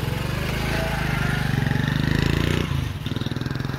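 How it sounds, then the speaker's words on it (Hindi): A motorcycle engine chugs loudly and close by with a rapid, pulsing idle rhythm that drops off near the end as it arrives and settles. "मोटरसाइकिल आ गई है।"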